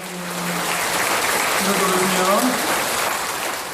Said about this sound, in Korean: 여러분들 박수 쳐주시고